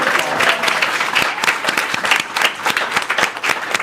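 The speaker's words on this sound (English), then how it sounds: "let's give a round of applause" Sustained round of applause from an audience of staff at a probate law office gathering, steady dense clapping throughout with a few sharper claps standing out.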